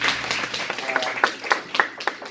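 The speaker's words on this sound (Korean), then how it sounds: "박수 한번 쳐주시면" Children in a church service clapping in a steady group rhythm, roughly a clap every quarter second, at moderate loudness.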